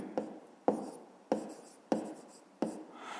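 Pen strokes on paper during a fifth-grade maths exercise, five short scratchy bursts at an even rhythm, close and alone in a quiet room.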